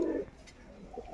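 A fancy pigeon gives a low, throaty coo at the start, then quieter murmuring and faint rustling follow, close by in a pigeon loft.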